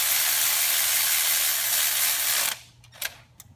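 A ratchet snugs down head bolts on a 6.0 Powerstroke diesel engine, with the cab on, during a head gasket install. A steady, dense mechanical clicking runs for about two and a half seconds, then stops, leaving a few faint knocks.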